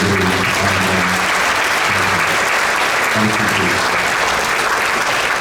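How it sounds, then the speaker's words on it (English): Sustained applause from a concert audience for young band students, dense and even clapping filling the room at full volume for several seconds, with a few faint voices and tones mixed in. "So round of applause for all those kids"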